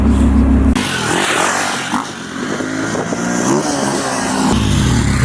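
Motorcycle passing on an open road, a loud rising and fading engine roar with clattering road noise as it goes by.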